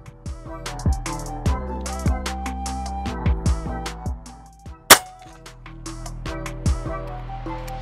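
One crisp, loud shot from a folding bullpup PCP air rifle snaps partway through, surrounded by softer knocks and faint mechanical clatter.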